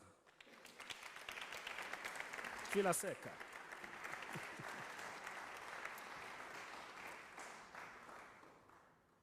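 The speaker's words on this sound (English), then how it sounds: "Round of applause for our candidates" At the opening ceremony of an international voice competition, an audience applauds the candidates, clapping swelling then holding steady and fading slightly, with a brief voice near the start.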